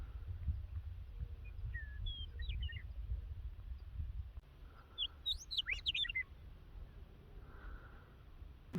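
Small birds chirp and trill in short bursts in woods on a foggy morning along the Pacific Crest Trail, distant and faint over a low rumbling background, with a cluster of rapid calls midway.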